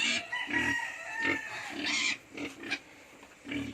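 A pig grunts and squeals in short repeated bursts, with fowl-like clucking sounds mixed in nearby.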